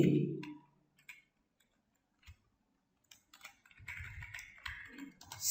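Keystrokes on a computer keyboard while Fortran code is typed, scattered sparse taps at first, then a denser run of quick clicks near the end, close and fairly quiet with no talk.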